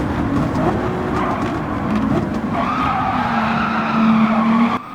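A race car in Gran Turismo 7 skids under heavy braking at the Nürburgring in a Manufacturers Cup qualifier. A loud, sustained tire squeal rides over engine roar for several seconds and cuts off abruptly at the end.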